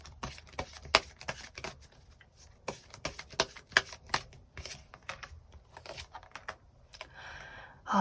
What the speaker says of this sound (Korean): 추가 카드로 앞으로 나의 인생을 더 잘 살아가기 위한 조언의 카드 몇 장 더 뽑아보도록 하겠습니다